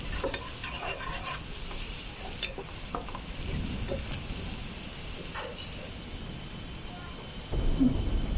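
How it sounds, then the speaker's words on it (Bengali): Onions with salt frying lightly in a pan for a restaurant-style chicken roast, a low, steady sizzle with occasional scraping stirs, fairly quiet, and briefly swelling louder near the end. "নাড়াচাড়া দিয়ে দিলাম। পেঁয়াজটা হালকা একটু ভাজা হোক।"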